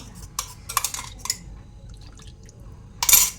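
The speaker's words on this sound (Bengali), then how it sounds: "এবার এই বাটিটা ধুয়ে, মশলার বাটিটা ধুয়ে একটু জল দিয়ে দেবো।" Water from rinsing a spice bowl is poured into a cooking pan, heard as a few short close splashes and clinks, then a louder sizzling splash at the end.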